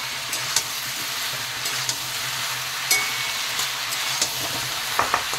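Pumpkin, potato and katla fish head curry being stirred in a pan, with a steady simmering sizzle and a few light scraping clinks of the spoon against the pan, near and unaccompanied by speech.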